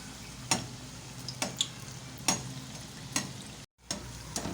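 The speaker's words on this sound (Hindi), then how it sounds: "तो इसके ऊपर हम थोड़ा थोड़ा ऑयल डालते जाएंगे ताकि अच्छी तरह ये फूल जाए।" Aloo pyaaz pakoras fry in hot oil while oil is spooned over them to puff them up, giving a quiet steady sizzle broken by sharp crackling spits about once a second.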